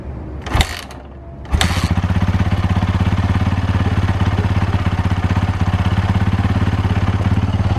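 A motorcycle engine coughs twice on being kick-started, then catches and settles into a steady, loud, close idle with a rapid, even thumping rhythm that continues to the end.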